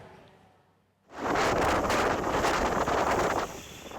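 Strong wind buffets the microphone at Merak port on the Sunda Strait during stormy weather with high waves. After a quiet first second, a loud, steady roar of gusts surges in and holds, easing slightly near the end.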